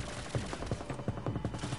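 Rapid bursts of gunfire in the game Saints Row crackle in quick succession, a dense fusillade of closely spaced shots at moderate level.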